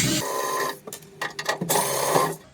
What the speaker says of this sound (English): I'm going to remove the side panel from it using friend of the channel electric screwdriver, and it's just 2 screws.